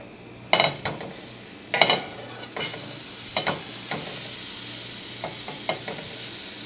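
Butter sizzling softly in a pan on low heat as it is pushed around, a few sharp scraping stirs standing out over a steady low hiss, close by with no talk.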